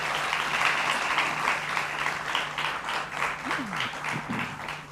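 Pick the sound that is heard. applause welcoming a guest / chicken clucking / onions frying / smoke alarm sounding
applause welcoming a guest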